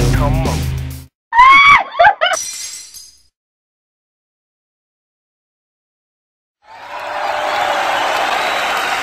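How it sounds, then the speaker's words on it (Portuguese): Brief burst of audience applause at a Brazilian stand-up comedy show, a dense wash of clapping that swells in after a silent pause and holds steady to the end, with a voice and sharp clinking sounds earlier. "Mais aplausos, mais aplausos."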